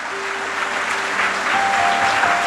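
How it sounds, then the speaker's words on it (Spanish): Church congregation applauding steadily as a dense, continuous wash of clapping that fills the room and swells slightly toward the end, with no talk over it. "Dale un aplauso al Señor."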